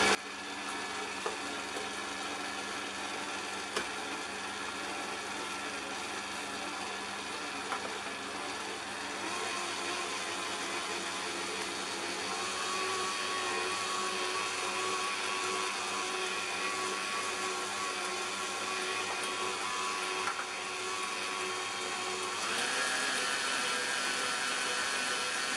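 An electric mixer runs on high, beating butter and sugars for Christmas cookies, a steady whirring motor drone held close and loud throughout, with a slight shift in pitch partway through.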